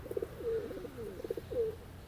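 Pigeons at a Sunday pigeon market in Lalukhet, including large-sized birds, giving soft throaty coos in short repeated phrases, close by over a low murmur of background noise.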